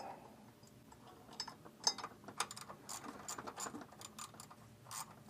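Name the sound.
tightening bolts on Dodge Ram power steering pump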